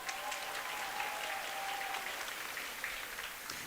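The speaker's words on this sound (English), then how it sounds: "Give Leslie a round of applause" Applause from the audience at a jigsaw puzzle national team competition, a steady dense patter of many hands clapping at moderate level throughout, heard somewhat distantly in a large hall.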